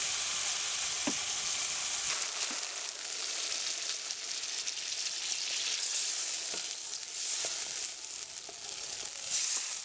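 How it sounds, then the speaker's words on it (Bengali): Water hits oily spice paste frying in a pan for a Bengali bata fish curry, producing a loud, steady, hissing sizzle that stays intense throughout, heard close with no voices. "মশলা থেকে আমার তেল ছেড়ে দিয়েছে এবার আমি জল দিয়ে দেবো"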